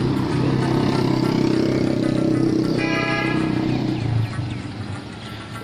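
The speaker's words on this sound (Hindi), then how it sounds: "ये जो छोटी कोस्टर जा रही है" Small Coaster minibus passing on a busy city street: loud, continuous traffic rumble and engine noise with a brief horn-like tone midway, fading slightly toward the end.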